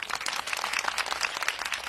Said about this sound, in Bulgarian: Аплодисменти за мен, за нас, за вас!